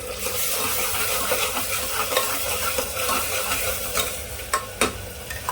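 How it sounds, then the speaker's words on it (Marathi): Spices sizzling in hot oil for mutton paya soup, a continuous crackling fry with stirring scrapes and a few sharp metallic clinks toward the end, close and fairly loud. "तेल चांगलं गरम झाले यामध्ये ना मसाला टाकून घेऊया"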